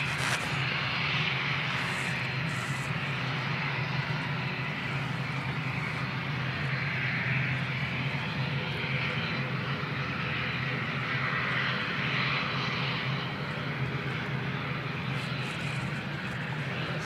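A Jetstar airliner on flight 236, bound for Auckland, rumbles at Christchurch Airport in wet conditions, its engine roar steady, broad and fairly distant for the whole stretch with no talk over it.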